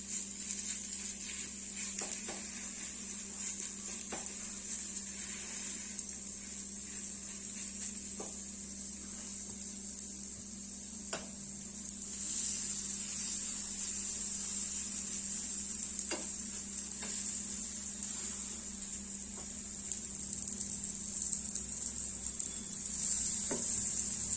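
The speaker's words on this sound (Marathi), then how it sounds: "मस्त खरपूस होईपर्यंत आपल्याला एका साइडने हे छान भाजून घ्यायचे आहे।" A veggie pancake frying on one side in a pan until crisp, producing a steady, quiet sizzle that holds throughout, with a few faint clicks and no talk.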